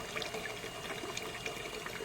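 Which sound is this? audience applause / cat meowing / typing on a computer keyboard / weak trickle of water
weak trickle of water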